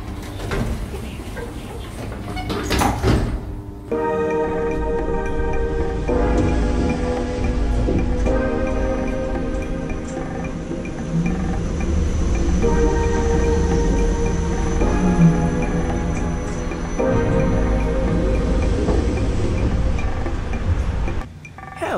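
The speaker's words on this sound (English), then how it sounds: "our elevator shaft will be departing for the lobby area" An elevator departing, with a sharp burst followed by a steady mechanical hum and layered tonal drone that carries on evenly, loud and unbroken.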